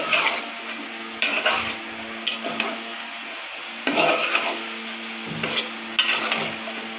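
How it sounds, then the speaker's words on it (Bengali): Chicken pieces being stirred with spices in a pan, sizzling steadily while repeated bursts of spoon-against-pan scraping come every second or so, close and fairly loud. "তো সব মাংস দিয়ে দিয়েছি বন্ধুরা, এখন ভালোভাবে নেড়ে চেড়ে নিব"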